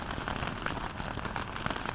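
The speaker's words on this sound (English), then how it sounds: "It's blowing quite a bit now, and I think it's raining inside." Rain patters on a tent during winter camping in Shawnee National Forest's Panthers Den, a soft dense crackle of drops with faint wind, quiet and continuous.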